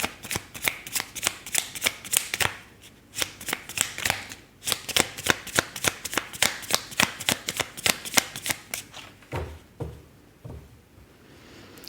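Tarot cards are shuffled up close in a long run of rapid, crisp riffling bursts with short gaps between them, loud and clear with no talk.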